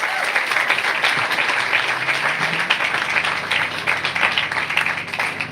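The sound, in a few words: crowd giving a big round of applause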